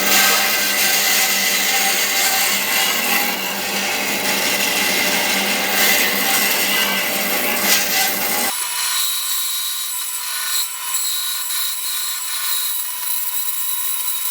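Rhythmic rasping strokes of a handsaw cutting a kerf into dense Australian ironbark timber, loud and close, running continuously with a change in tone partway through as the cut deepens, no voices.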